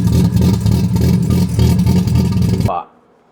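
A Valiant car with a Barra engine rumbles loudly and steadily with a low, throbbing pulse, then cuts off abruptly into near silence.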